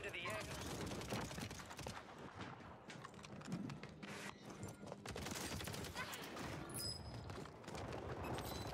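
Rapid bursts of automatic gunfire from a Call of Duty match on Rebirth Island crackle in dense, overlapping volleys alongside game effects, loud and continuous throughout.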